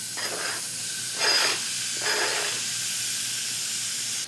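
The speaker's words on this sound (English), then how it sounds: "let's fry up 5 pieces of diced bacon." Diced bacon frying in a pan, a steady hiss and crackle with a few louder bursts of sizzling as pieces are moved, close and continuous with no speech.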